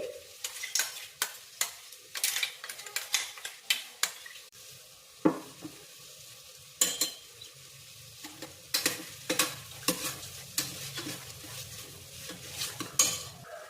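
Spinach paste for palak rice being stirred and frying in a pan, with repeated scraping and clinking strokes of a spoon against the pan over a steady low sizzle, close and fairly loud, with no talk.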